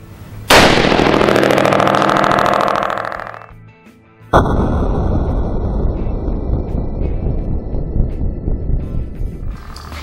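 A .308 rifle fitted with a Dead Air Armament muzzle brake fires two loud, sharp shots a few seconds apart, each cracking hard and then trailing off into a long rolling echo outdoors.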